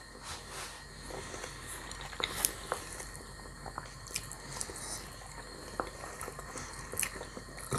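Close, quiet chewing and biting while someone eats fish triangle pastries: soft, wet mastication with small crunchy clicks and squishes throughout, over a faint steady background hiss, with no talking.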